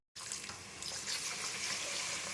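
Water gushes from a tap onto one kilo of seeraga samba rice for Chettinad chicken biryani, a steady loud splashing stream that starts abruptly and runs without a break.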